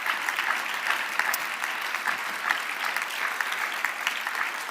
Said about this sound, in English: You can give yourself a round of applause, because it's great to have you being so enthusiastic.